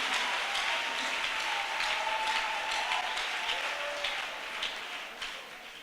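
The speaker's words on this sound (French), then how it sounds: "On peut acclamer très fortement le Seigneur." A church congregation at an EPCI gathering breaks into loud, sustained applause with cheering voices mixed in, a dense crackle of many hands that carries steadily and eases off slightly toward the end.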